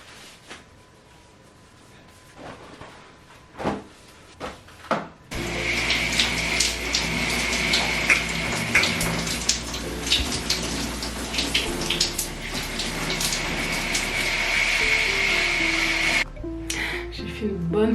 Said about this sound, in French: Pour le coup, j'ai pris ma douche